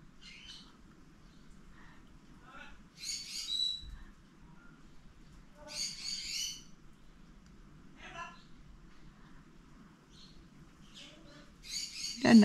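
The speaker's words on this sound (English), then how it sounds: "my birds in the aviary have just decided to start talking." Pet parrots in an aviary squawk and whistle in scattered short calls a little way off, over a low steady hum, with quiet pauses between the outbursts.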